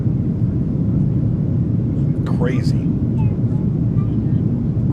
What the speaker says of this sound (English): It literally sounds like you're on an airplane.